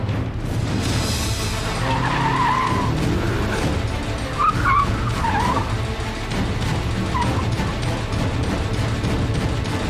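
A Mitsubishi Evo 6 engine roars and revs hard with tire squeal, loud and close, the motor note rising and falling throughout.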